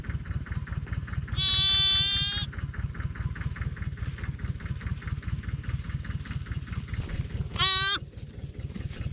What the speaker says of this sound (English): This is our first lamb of the lambing season.